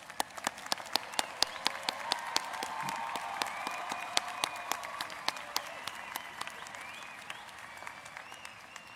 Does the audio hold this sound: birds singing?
no